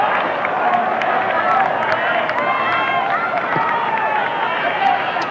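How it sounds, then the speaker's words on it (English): A large football crowd at a Brisbane Bears versus Essendon AFL match in Brisbane, with a constant loud roar and murmur of spectators and a commentator talking over it throughout. "Very good crowd here on this spring-like afternoon here in Brisbane"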